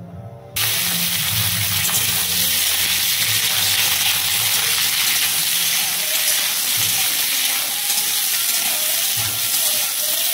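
Sliced ridge gourd frying in a little oil after a black cumin tempering, a steady loud sizzling hiss that starts abruptly and runs on without pause.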